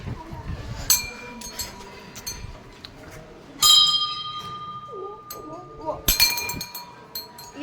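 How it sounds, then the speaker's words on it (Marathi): Small and large temple bells ring at a temple entrance, several separate clear strikes with long ringing tails, close and bright, over background chatter and voices. "छोटा घंटी है, ये बड़ा घंटी है."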